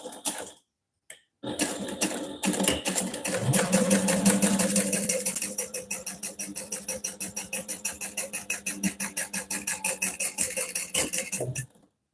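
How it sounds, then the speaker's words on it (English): Sewing machine topstitching along the top edge of a directional vinyl wallet with an eighth-inch seam allowance, a loud rapid needle rhythm that runs steadily for about ten seconds after a few short starts and stops. "I'm just going to top stitch now along the top edge of this using a 1/8 inch seam allowance"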